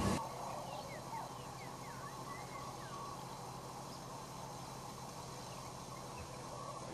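A guinea fowl calls repeatedly in harsh, rattling cackles from a distance, coming down from its roost on a safari in Lewa, Kenya, over a steady outdoor background hiss.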